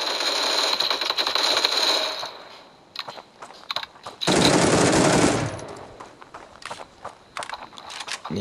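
AK rifle fire in the game Standoff 2: loud rapid bursts of automatic gunfire, a long burst then a second dense burst after scattered footsteps and clicks.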